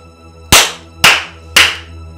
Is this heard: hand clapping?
yes